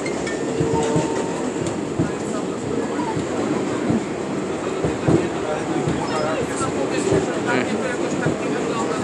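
A subway train runs loudly in the city, with a steady rumbling roar and rhythmic clatter of wheels on track throughout, and voices talk faintly beneath it.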